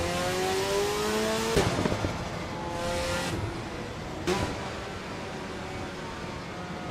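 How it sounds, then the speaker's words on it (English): A Toyota Supra race car in the Le Mans Ultimate sim at Spa, engine note climbing then cut by sharp downshift blips and pops at two points, fairly loud and alone. "The downshift sounds so dramatic."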